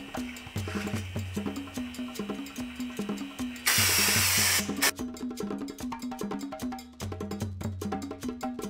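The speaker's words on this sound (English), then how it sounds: "I'm going to spray a brake cleaner on it." Brake cleaner sprayed from a can onto a CVT part from a Phantom F12 scooter, one loud hissing burst of about a second standing out over a looping background music beat.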